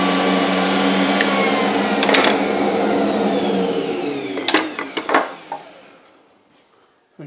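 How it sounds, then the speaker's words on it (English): A router fitted with a Trend 1/2-inch cutter cuts a decorative core box groove into a wooden rail. A loud, steady motor whine runs for several seconds, then fades away with a few sharp knocks near the end. "next, I'm going to do that little decorative core box feature, which will be in the middle of the front of the rail."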